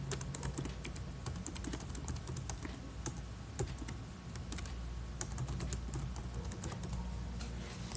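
Rapid, steady keystrokes on a computer keyboard while an email address is entered during Windows 11 account setup, close and continuous with irregular clicks over a low background hum, no voices.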